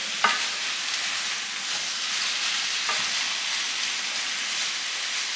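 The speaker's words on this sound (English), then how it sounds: "Let me stir." Cooked rice frying in a pan while being stirred, a steady close hiss and sizzle with a couple of soft scrapes of the spoon.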